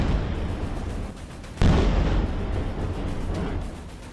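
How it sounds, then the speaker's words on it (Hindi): Missile attack on Jerusalem: a sudden loud blast lands mid-clip over a steady, rumbling low roar, leaving a broad, noisy wash that slowly settles. "ये तस्वीर यरूशलेम पर मिसाइल हमले की है।"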